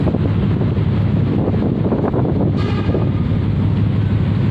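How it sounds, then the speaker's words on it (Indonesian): Strong wind gusting steadily past a roadside, a loud broadband rush that buffets the microphone throughout, with a low rumble of passing traffic underneath and no talk. "cuma anginnya juga nambah kencang"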